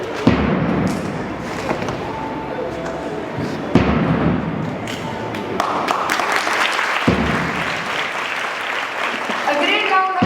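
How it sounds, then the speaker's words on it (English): Applause from an audience at a school investiture ceremony in a hall as former head boy and head girl hand over their charges, a dense, steady clapping wash with some thumps and murmured voices mixed in throughout. "A great round of applause, please."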